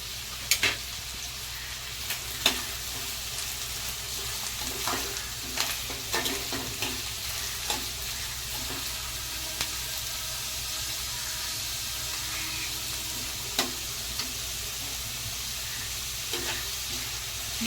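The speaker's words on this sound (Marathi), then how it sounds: "गॅस आपण मध्यम आचेवरच ठेवणार आहे पूर्ण कांदा शिजवून घेईपर्यंत" Finely chopped onion frying in a pan over medium heat for methi bhaji: a continuous even sizzle with scattered light clicks and scrapes of stirring throughout, and no voices.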